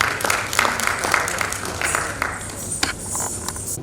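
Audience applause greeting a group of dancers at a stage performance event, dense and continuous clapping that fills the space at moderate loudness throughout, with a few sharper individual claps standing out.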